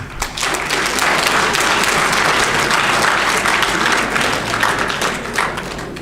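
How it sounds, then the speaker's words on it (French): Loud, dense audience applause fills a hall during a formal speech, steady clapping from a large crowd that holds for several seconds before easing off. "Applaudissez."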